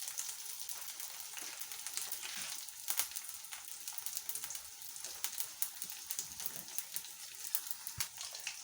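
Heart-shaped egg and sausage frying in oil in a pan over a low flame, a steady fine crackling sizzle with scattered sharper pops, moderately quiet and continuous with no talking.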